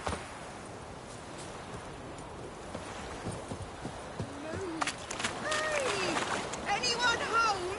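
Roach, the horse in The Witcher 3, gallops with quick clip-clop hoofbeats under game ambience, growing louder and busier toward the end with a voice calling out.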